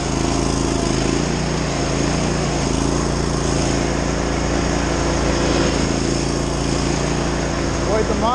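A motorized power buggy dumper drives off with its small engine droning steadily and loudly the whole time, a close and unbroken mechanical roar with no pauses.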